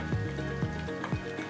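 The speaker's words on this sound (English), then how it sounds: "I am adding few chopped onions also. I forgot to tell you that time. Let it become golden color." Chopped onions fry for chole in a pan with a steady, close sizzle, and a few soft stirring scrapes repeat at a regular pace over it.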